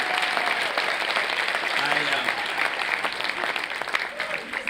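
Audience applause at a live storytelling show fills the whole stretch, dense and steady, with a few voices calling out over the clapping.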